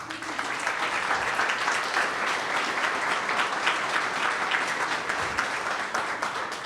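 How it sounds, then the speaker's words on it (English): An audience at a business demo day event gives a round of applause, dense sustained clapping from a large crowd that holds steady and fairly loud for several seconds. "And you all deserve my biggest thanks, our biggest thanks, and a round of applause."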